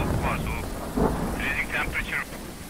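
Thunder from a lightning strike in the horror video game Phasmophobia rumbles under steady rain, mixed with a few short bursts of voice-like sound.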